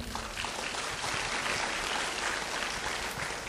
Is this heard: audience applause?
yes